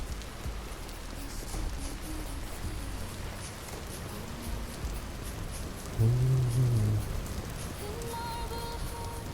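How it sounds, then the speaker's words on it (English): Rain falls steadily in the game Vintage Story, a broad, constant hiss of drops close by, with a low rumble swelling briefly midway and faint tones appearing toward the end. "I want to get out of the rain."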